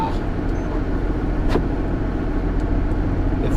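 A JCB Fastrac 8250 tractor with a vario transmission drives along, its engine a steady mid-pitched hum with one brief clank partway through, under people talking in the cab.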